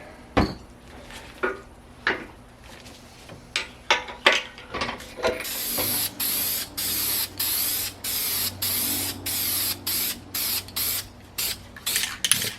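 A spray can repeatedly hisses paint onto a Mercedes M100 6.3 engine block in short, loud, evenly spaced bursts, preceded by several clanks and rattles as the block is handled.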